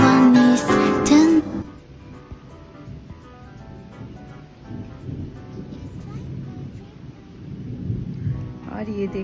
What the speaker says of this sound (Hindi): और ये देखिए कैसे आज बारिश हो रही है फिर से